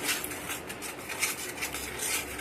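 Peanut butter soup being stirred in a pot, a continuous scraping and rubbing of a utensil against the metal with light clinks, steady and close, with no talk.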